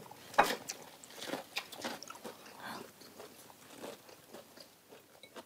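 Someone eats Vietnamese rice paper rolls generously packed with filling, with close, faint crunching bites and moist chewing repeating steadily.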